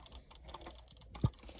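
Rapid clicking on a Logitech G502 gaming mouse, a quick irregular series of light plastic clicks close up, quiet, ending in one louder thump.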